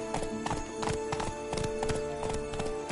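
Roach, a horse in a video game, trots along with steady, close clip-clop hoofbeats in an even rhythm, with faint game ambience underneath.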